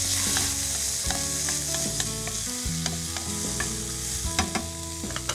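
Beetroot and carrot frying in a pan for ragi soup, a steady sizzle with repeated stirring clinks and scrapes, close and clear with no talking.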